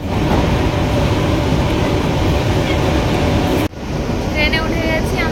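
A train rolls along after boarding at a darkened station, a loud, constant rumble and rattle filling the whole stretch, with a sudden brief drop and a squeal near the end.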